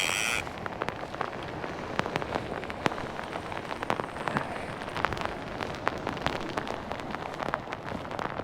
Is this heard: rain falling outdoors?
yes